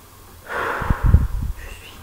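A single close snore: a breathy rasping inhale followed by a few low, rumbling snorts, with quiet room tone around it.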